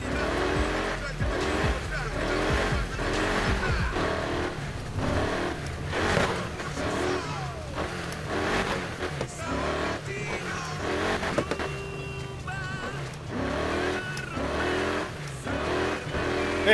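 A modified car revving in the video game Need for Speed Heat, with engine surges rising and falling repeatedly over most of the stretch, sharp exhaust pops between revs and a voice talking over it.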